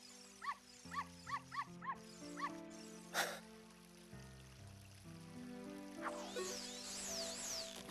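Dogs barking from a village in a Zelda Ocarina of Time randomizer game, a run of short yaps in quick succession near the start over steady game music and ambient sound.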